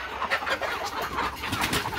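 Chickens cluck and squawk busily in a crowded, continuous chorus while being caught, close and fairly loud with scuffling around them.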